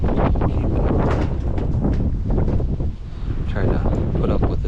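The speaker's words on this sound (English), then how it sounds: "try to put up with this wind the best I can" Wind buffets an outdoor microphone with loud, continuous broadband rumble and roar, dipping briefly near the middle before surging back, on a farm during John Deere 787 strip-till work.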